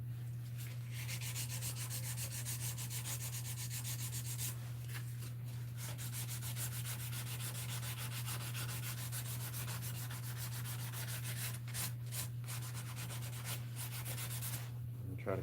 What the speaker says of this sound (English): You sand here, you got to sand there, and back and forth.